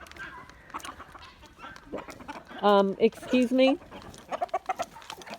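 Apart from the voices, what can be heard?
roosters clucking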